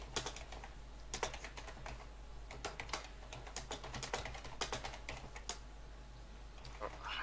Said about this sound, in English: Oh, I can hear the troll keyboard going.